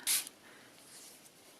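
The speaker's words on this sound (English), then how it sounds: "And I just keep spraying until the walnut ink starts to move a little" A water spray bottle gives one short, close hiss of fine mist over walnut ink on paper, then quiet room tone follows.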